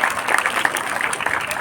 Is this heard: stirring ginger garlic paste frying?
no